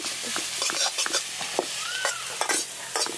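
Masala roasting in a hot pan: a steady sizzle with repeated scraping strokes of a spatula as it is stirred, close and moderately loud, with no talking.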